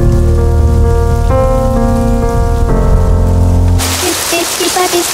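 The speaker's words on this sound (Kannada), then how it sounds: "ಮಳೆ ಬರ್ತಿದೆ" Heavy rain pours down as a dense, steady hiss, first beneath sustained music and then alone and louder after the music stops.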